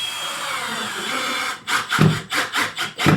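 After a steady background hum, a power drill drives a screw to fix a modular kitchen cabinet to the wall, with several rhythmic whirring bursts close by, each starting and stopping in quick succession.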